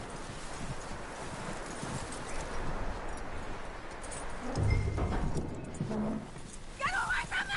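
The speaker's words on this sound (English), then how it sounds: "That looks like a decent horse." Horse hooves in the video game Red Dead Redemption 2, with steady clip-clop footfalls under ambient noise and game characters talking over them.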